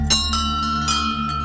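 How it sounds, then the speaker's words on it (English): Temple bells ring at places of worship in Nepal in the Far Cry 4 game: sustained metallic tones hum steadily while several sharp strikes land close and clear over the ringing. "I didn't realize the significance of bells, especially around temples and places of worship"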